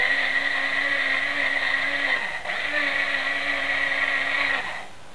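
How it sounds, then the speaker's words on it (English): Six spoons of potassium nitrate and four of sugar are whisked together as a fine powder for a homemade rocket mix, heard as a steady loud electric whirr with a brief dip midway before it cuts off near the end. "in here I've put 6 spoons of potassium nitrate to 4 spoons of sugar, and I'll just whisk that up."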